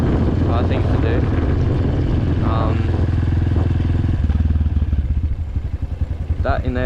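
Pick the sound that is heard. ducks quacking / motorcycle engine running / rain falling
motorcycle engine running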